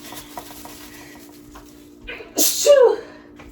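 Two sharp sneezes from pepper while turkey wings cook in a kitchen, loud and close, rising out of quiet background hum and soft clinks.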